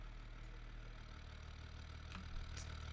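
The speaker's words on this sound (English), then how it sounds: "Now, this engine might sound like a diesel engine, which it might actually be a diesel engine" The Hopper off-road vehicle in BeamNG.drive runs with its engine at a steady idle, a faint low rumble that holds evenly throughout with no talk.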